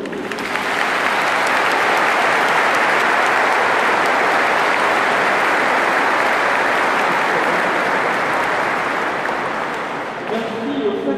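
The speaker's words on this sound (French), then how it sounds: "on peut les applaudir" Sustained applause fills a cathedral at a priestly ordination, a dense, steady wash of many hands clapping for about ten seconds before fading out at the end.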